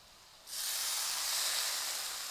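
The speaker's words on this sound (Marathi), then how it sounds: "हा गरम गरम तुपाचा तडका यावर घालू" Hot ghee tadka hits carrot halwa in a pan and bursts into a sudden loud, steady hiss of sizzling that starts after a quiet moment and holds at full strength.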